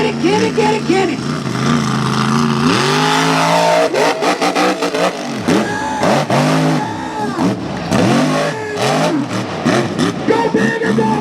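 Mega trucks at New York State Off-Road Park roar and rev hard during freestyle runs, with loud, close engine surges, repeated rising and falling pitch sweeps, and shouting voices mixed in.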